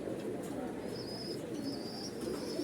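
Domestic pigeons in a fancy pigeon loft cooing softly at close range, a low murmuring coo over faint background noise, with a thin high tone drifting through.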